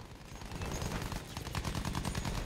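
Cannon fire and heavy gunfire rumble through a Battlefield 1 single-player battle beneath a German airship, with dense, rapid bursts and booming thuds filling the whole stretch without speech.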